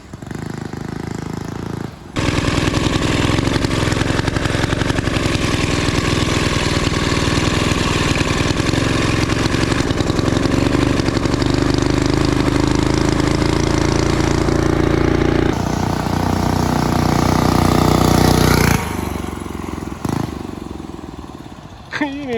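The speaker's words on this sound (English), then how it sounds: "You can hear the turbo." Turbocharged mini bike engine running loud and close, a steady buzzing roar that climbs in pitch as it revs, then drops off and cuts out near the end, with people talking faintly over it.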